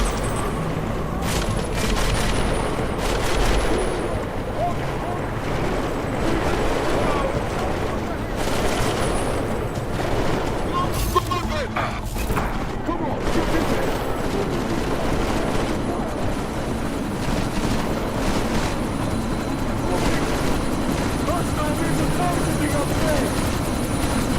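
Helicopter rotors drone steadily and loudly through a sandstorm in the game Deus Ex: Mankind Divided, mixed with bursts of gunfire and voices speaking over the din.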